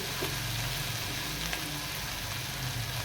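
Chicken wings and potatoes frying in oil in a karahi, giving a steady, dense sizzle that holds evenly throughout with no talking.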